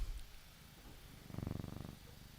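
A soft, rhythmic cat purr rises up close after a quiet moment, pulsing steadily for under a second before fading back into faint room noise.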